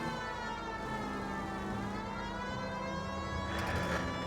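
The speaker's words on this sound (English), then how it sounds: "Oh, I just turned my siren on." A police car siren wails continuously in LA Noire VR, a steady loud rising-and-falling tone with rich harmonics that fills the whole stretch, heard from inside the car over a low engine rumble.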